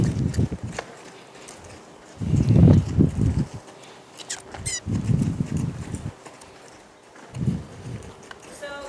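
A mare's hooves thud on the ground in slow, uneven clusters of steps as she walks forward, somewhat stumbling in the front end, heard close by between stretches of quiet.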